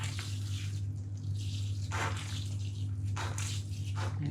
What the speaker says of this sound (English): before I sow the seeds, I'm going to water the compost,